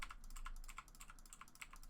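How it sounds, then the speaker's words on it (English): Quick bursts of computer keyboard key presses, several crisp clicks in an uneven rhythm, close and fairly clear with no speech over them. "using K again on your keyboard, you're going to just add keyframes like this"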